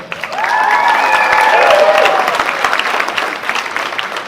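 A crowd at a sangeet wedding celebration applauds the couple, loud continuous clapping that swells after a moment, with a few voices calling out over it early on.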